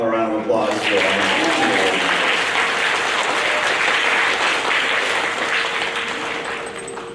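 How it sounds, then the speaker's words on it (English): Sustained audience applause fills a sixth grade school awards program, loud and steady from start to finish, with a brief voice at the opening before the clapping takes over and tapers slightly at the end. "How about a round of applause for our"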